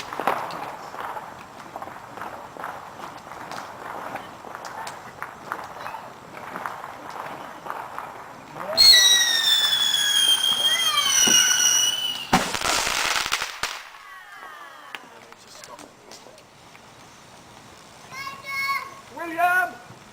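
Fireworks explode on Bonfire Night, with crackling bursts, whistling rockets and booms mixed among children's voices and general chatter, loudest in the middle of the scene.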